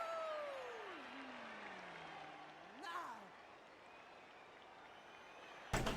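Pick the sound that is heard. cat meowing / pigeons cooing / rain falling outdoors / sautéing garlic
cat meowing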